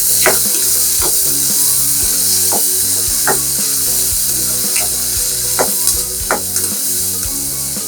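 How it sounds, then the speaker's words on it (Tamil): Small onions sauté in hot oil for a country chicken chukka, giving a steady loud sizzle throughout, punctuated by repeated sharp scrapes and clinks of a spoon stirring against the pan. "இப்போ சின்ன வெங்காயத்தை போட்டுடும். போட்டு நல்லா வதக்கிடும்."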